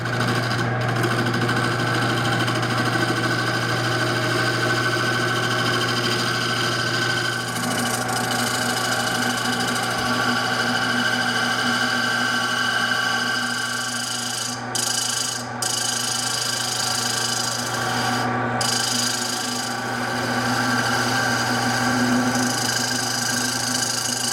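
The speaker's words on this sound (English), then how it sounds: "I'm going to be using a carbide cutter for this part, and yeah, let's see what happens." A carbide cutter on a lathe carves a Milliput inlay in a bowl, giving a loud, steady, continuous grinding buzz with a constant hum that runs unbroken throughout.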